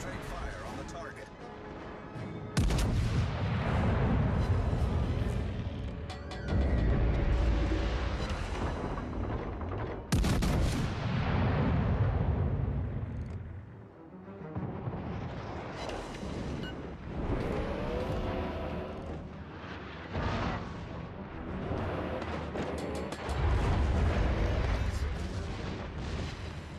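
Heavy naval gunfire from the battleship Georgia in World of Warships Legends, deep booming salvos repeating over several seconds, loud and close, with a game announcer voice speaking between the shots.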